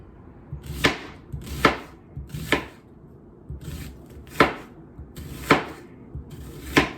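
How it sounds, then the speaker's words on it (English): A knife cuts an onion into half rings on a board while vegetarian borscht is being made, with six or seven sharp, close chops at an unhurried, slightly irregular pace and soft handling noise between them. "I told you that I chop you my onion"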